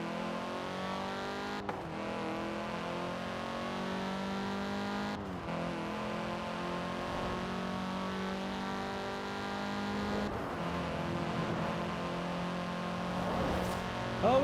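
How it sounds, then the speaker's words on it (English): Audi S1 accelerating hard in Forza Horizon 4, a loud continuous engine roar with rising harmonic pitch, broken by three sharp gear shifts, running steadily for the whole stretch without talk. "you can all see how this car is gonna take off and how fast it is"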